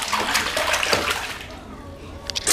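Bath water sloshing and splashing during a child's bath time, a steady wash of water noise with a few sharper splashes near the end and no talking.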